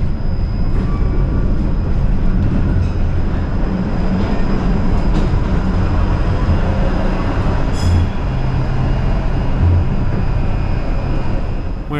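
Konstal 105 NG tram rolling through Szczecin, heard from inside: a loud, steady rumble of wheels on rails with rattling and faint clicks, a brief squeal or chime near the end.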